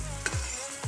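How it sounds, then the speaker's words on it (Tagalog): Tomato paste sizzles steadily in a pan for mechado, a brief continuous frying hiss broken by a couple of soft stirring scrapes. "Igisa nating mabuti ang ating tomato paste."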